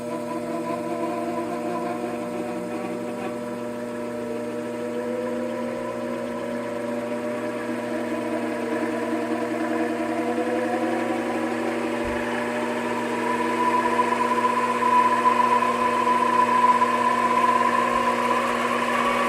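A Grizzly mini lathe runs and gradually speeds up toward 2,000 RPM, its steady motor whine and hum rising slowly in pitch and growing a little louder over the span, close and alone.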